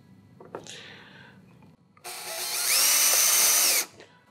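A power driver spins a screw into a Hobie Mirage Passport 12.0 fishing kayak's plastic hull while fitting an H-bar standing support: brief clicks, then a loud steady whirring drive of about two seconds that rises in pitch before stopping.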